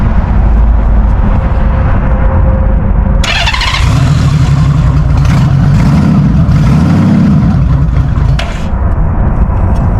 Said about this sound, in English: Now that is a cold start.